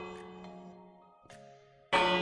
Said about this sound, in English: Why are those bells so loud?